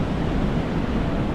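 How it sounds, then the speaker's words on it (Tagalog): Heavy ocean surf whipped up by a typhoon roars as a continuous broadband wash on a beach in the Philippines, loud and close, mixed with wind buffeting the microphone. "Lakas ng alon."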